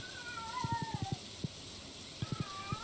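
A cat meows in a farming game's soundtrack, several short, soft repeated meows in two bursts set against steady background music and ambience.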